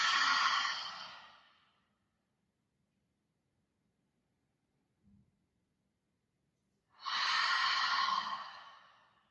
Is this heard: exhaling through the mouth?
yes